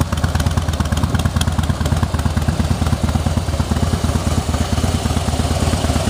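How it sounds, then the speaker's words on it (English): A 2016 Harley-Davidson Heritage Softail Classic with a 103 cubic inch twin cam V-twin and Vance and Hines pipes idles up close, a loud, steady, lumpy rumble with even pulsing beats throughout. "Has a 103 cubic inch twin cam engine with a 6-speed transmission"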